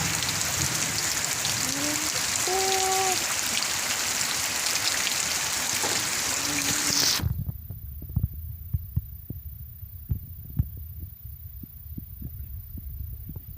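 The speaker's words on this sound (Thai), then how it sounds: "ดีวันฝนตก วันนี้ตกหนักเลย โอ้ยลมพัดด้วย" Heavy rain driven by wind falls on a durian orchard, a loud, dense roar for about seven seconds that cuts off abruptly to a quiet stretch of scattered drips and taps.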